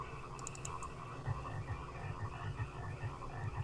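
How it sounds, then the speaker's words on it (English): Multiple frogs croaking in the 1972 film Frogs, a dense chorus of low rhythmic croaks pulsing steadily under a continuous background, with no talk. "It's frogs. Multiple frogs trying to get in."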